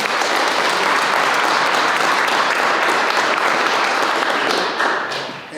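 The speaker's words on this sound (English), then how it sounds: "I think that deserves an applause." Dense, loud applause from an audience at a speech, a continuous wash of many hands clapping that holds steady and then tapers off slightly at the end.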